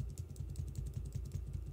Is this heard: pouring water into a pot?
no